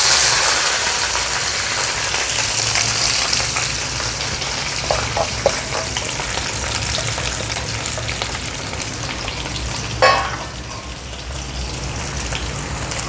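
Chopped bell pepper (simla mirchi) frying in hot oil with spluttered mustard seeds in a kadhai on a gas stove, a steady close hiss and sizzle with a few clatters from stirring.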